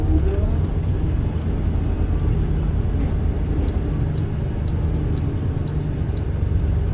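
A truck backs up on a cramped Philadelphia city street. Its reverse alarm gives three evenly spaced high beeps over a steady, heavy engine rumble.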